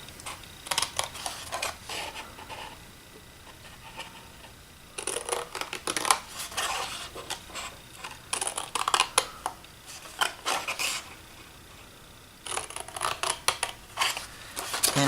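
Scissors snip through paper to cut small wedges from a flat-fold Christmas box, with short bursts of crisp close cutting separated by quiet pauses.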